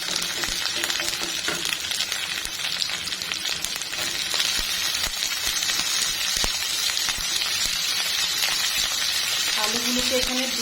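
Potatoes frying in hot oil with green chilies and fenugreek in a pan, a loud continuous close sizzle throughout, with brief scraping touches near the end.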